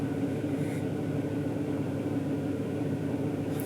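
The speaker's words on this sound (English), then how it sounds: "This is what it sounds like in the truck right now with the stock." A GMC Sierra HD pickup with its stock air intake idles at about 750 RPM on a cold day, heard from inside the cab as a steady, muffled low rumble with no talking.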